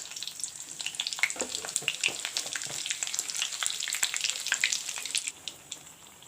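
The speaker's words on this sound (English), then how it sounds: "The oil is turned hot. I slitted the 2 green chilies. This I'll put in. Put in some jeera, cumin seeds." Green chilies and cumin seeds frying in hot oil give a continuous close crackle and sizzle with dense pops and spits, gradually thinning near the end.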